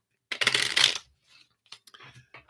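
A plain deck of playing cards is riffle-shuffled in one quick burst, followed by softer card taps and handling sounds, close and alone.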